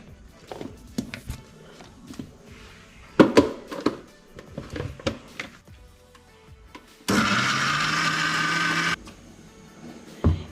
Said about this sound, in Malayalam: ഇനി നമുക്ക് മിക്സിയിൽ നന്നായിട്ട് ഇതൊന്ന് അരച്ചെടുക്കാം.